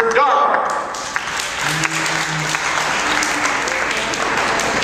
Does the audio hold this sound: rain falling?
no